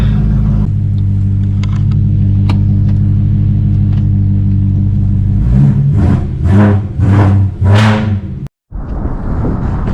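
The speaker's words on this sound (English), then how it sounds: "I'll give you guys a rev really quick." BMW E92 M3 engine with a new exhaust idles loudly, then revs in a series of quick throttle blips, each rising and falling, close and deep before cutting off briefly.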